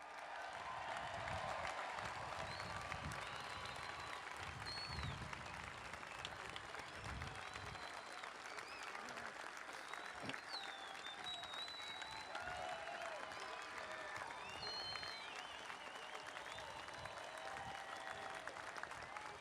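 A large crowd applauds steadily at the Indianapolis 500 public drivers meeting after the 2016 pole sitter is introduced. The dense clapping is sustained, and a few whistles and cheers carry over it.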